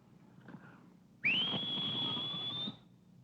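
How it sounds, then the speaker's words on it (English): A person gives one sustained, steady whistled note of about a second and a half, clear and close over a quiet room, in a scene from a 1944 film. "don't think you can whistle either"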